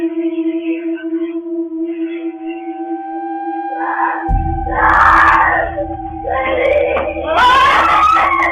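A girl screams in terror in her bedroom: wavering, drawn-out tonal wails build over steady background hum, then break into loud, shrill bursts toward the end over a low rumble. No speech.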